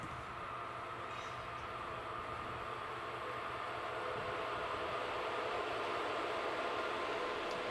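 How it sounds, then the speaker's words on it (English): Slovak Class 746 electric locomotive running through a station with a single wagon, a steady, close rolling rumble with a faint metallic rail hum throughout, no voices. "While Class 746003 runs through with one wagon"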